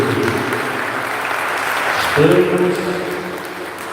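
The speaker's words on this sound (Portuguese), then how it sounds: "Uma salva de palmas para o Senhor." Church congregation clapping at a women's congress closing service, a steady broadband wash of applause mixed with someone speaking over it, rising slightly partway through.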